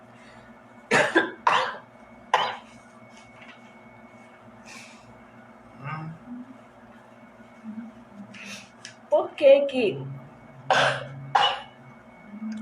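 Several harsh, close coughs from someone with flu come in bursts, some in quick pairs, with throat clearing and brief murmured speech between them.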